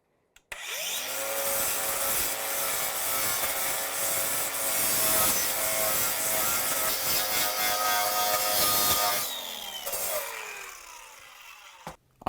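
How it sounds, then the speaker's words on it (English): Steady abrasive sanding of rusty metal on an old engine runs continuously for about ten seconds, harsh and loud up close, then stops abruptly and fades out. "Might have to be a bit more aggressive, I think, with the sanding."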